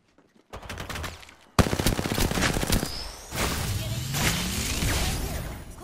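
Rapid automatic gunfire in Apex Legends: after a short quiet start, dense bursts of loud, close shots rattle almost without pause, with whooshing sweeps and crashes mixed in.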